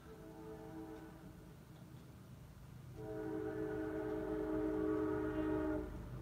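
A train horn in an anime episode blows a sustained, chord-like blast over a continuous rumble, then a second, louder and longer blast follows.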